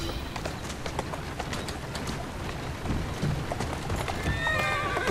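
Horse in the Assassin's Creed Syndicate video game: steady clip-clop of hooves on a street with a neigh near the end, over constant busy city ambience.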